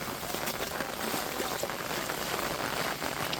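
Soft, steady rainfall hisses evenly in the distance over rice fields in Konkan, a faint continuous patter with no voices.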